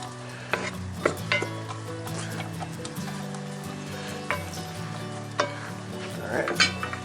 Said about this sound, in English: let me get my tool and stir that down just a little bit